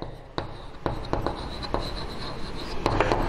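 Chalk or marker writing on a classroom board during a computer science lesson, with short scratchy strokes in an irregular rhythm, close and fairly quiet, without speech.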